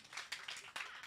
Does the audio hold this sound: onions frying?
no